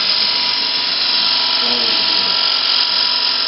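A gouge riding its bevel cuts a turned bowl on a wood lathe, making a loud, constant high whining hiss throughout, close and unbroken, with a faint voice briefly underneath.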